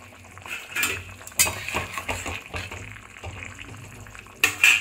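A metal spoon scrapes and clinks against a pan as boiled potato and pumpkin curry is stirred, a few close knocks and scrapes with a soft wet simmer underneath and no talking.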